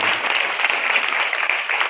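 A congregation at a New Year church service breaks into steady applause, a moderately loud, even patter of many hands clapping together.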